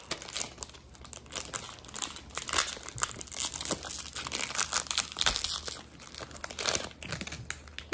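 A foil pack of 2024 Topps baseball cards is torn open, with continuous crinkling and crumpling of the wrapper, close and busy for several seconds, no talking.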